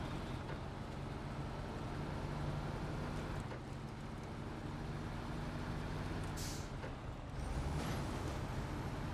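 Truck in the video game SnowRunner grinding through deep mud, a continuous low engine drone and churning rumble with a brief hiss and a knock near the end.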